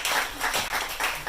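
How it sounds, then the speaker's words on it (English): Audience applause at a bookstore book reading, a brief, moderately faint patter of clapping with a few surges, no talk over it. "And an applause to you too"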